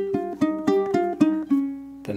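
Ukulele picking a melodic line of eight distinct plucked notes in an even rhythm, each ringing briefly before the next, played close and clear with no talking, from a spooky melody.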